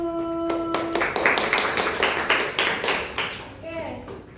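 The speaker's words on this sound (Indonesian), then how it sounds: "tepuk tangan buat kelompok 1." A classroom of students claps for a group at a microteaching session, a burst of rhythmic, close hand clapping that follows a brief sustained tone and tapers off near the end, with children's voices faintly mixed in.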